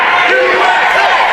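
A wrestling arena crowd roars and chants together for Josh King, a loud, dense wall of many voices filling the hall without a break.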